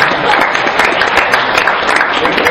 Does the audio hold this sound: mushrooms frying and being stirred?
no